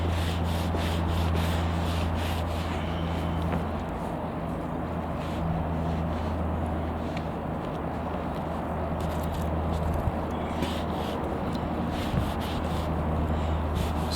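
A damp cloth wiped across the scratched surface of a boat, a continuous close rubbing and scuffing sound that carries steadily throughout with no talk.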